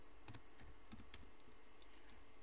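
Someone types on a computer keyboard while working in a Word document, giving a quick run of soft, close keystroke clicks with no talking.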